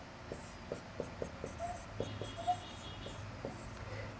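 Chalk or marker writing on a board during a Class 10 trigonometry lesson, with short scratchy strokes and taps in an irregular rhythm, close and fairly quiet, and no talking.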